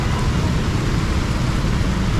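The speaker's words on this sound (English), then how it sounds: "And the rain is too much." Heavy rain pours down steadily during flooding in Karachi, Pakistan, a dense, loud, continuous roar with no break and no voices.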